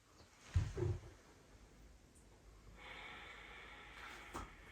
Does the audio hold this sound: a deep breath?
yes